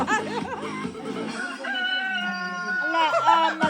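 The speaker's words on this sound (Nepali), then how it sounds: "लु आयो भाले आयो" A rooster crows close by at an outdoor barbecue, a loud drawn-out call with clucking and rising and falling notes over a few seconds.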